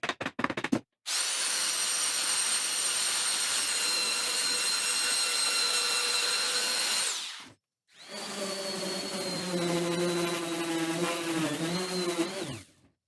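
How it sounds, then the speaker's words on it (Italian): A belt sander runs over planed wooden slats nearby, a loud, steady whining roar that cuts off after several seconds, then starts again with a lower, shifting tone under load as the belt works the wood. "ora passo con la levigatrice a nastro"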